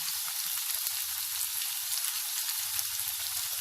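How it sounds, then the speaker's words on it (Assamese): Leftover rice frying with soy sauce in a pan for vegetable fried rice, giving a steady close sizzle with occasional low stirring knocks against the pan, no voices. "এনেকৈ ৰাইচখিনি মই ভাজি আছোঁ"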